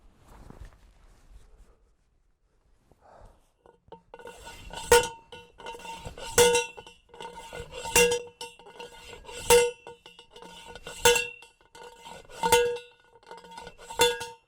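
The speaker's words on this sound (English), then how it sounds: "I'm gonna finish pounding these fence posts in" Steady hammer blows pounding fence posts into the ground along a south fence line outdoors, sharp metallic clanks repeating roughly every one and a half seconds, moderately close with faint ambient noise between strikes.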